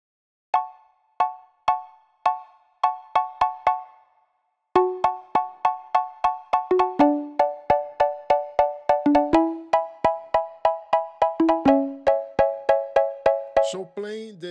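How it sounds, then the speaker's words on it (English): A synthesized pluck with reverb added plays a melody, bright staccato notes with short tails and a brief pause early on, ending in a small burst of noise. "I will insert the reverb on the synthetic sound too."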